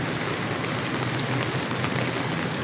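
Light morning drizzle falling steadily outside an office and warehouse area, an even, dense patter of raindrops with no break, close and moderately loud.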